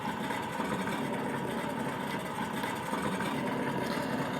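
Simulated engine sound from a Traxxas TRX-4M high-trail RC truck, a steady droning, buzzing idle that holds at an even level throughout, close and continuous with no talking.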